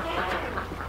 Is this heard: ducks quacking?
yes